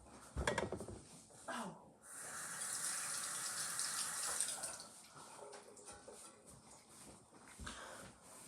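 Tap water runs over a ginger root being washed, a steady splashing gush from a faucet with a few handling knocks and clatters before it, close and moderately loud, no talking.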